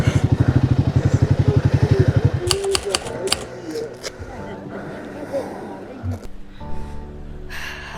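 A Royal Enfield Himalayan 450 motorcycle thumps along rapidly and evenly on steep Darjeeling roads, prominent for the first couple of seconds before fading under voices and scattered clatter.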